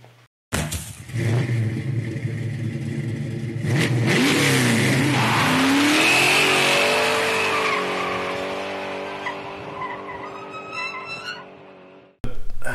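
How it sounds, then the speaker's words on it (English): Austin-Healey Sprite, its engine brought back to life after sitting ten years, cranks, catches and revs up loud and close, climbing in pitch, then settles and fades before cutting off abruptly near the end. "it looks like it's up to me to start this car"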